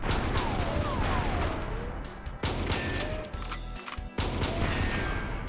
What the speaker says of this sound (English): A load of explosions.